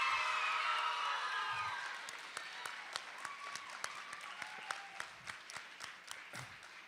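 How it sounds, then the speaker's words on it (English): Applause from the audience at a student media awards ceremony starts as a full burst of clapping, then thins out into scattered individual claps that fade toward the end. "See, he got a better applause than I did."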